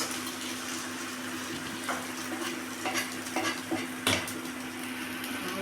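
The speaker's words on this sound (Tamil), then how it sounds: "இப்போ ஆம்லேட் ஊற்றிடலாங்க." Omelette batter with vegetables frying in a hot pan, giving a steady close sizzle and crackle with a few brief utensil or pan knocks on top.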